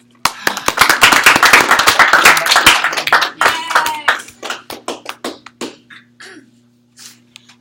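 Audience clapping, a loud burst of many hands that thins into scattered claps and a few last isolated slaps before fading to quiet.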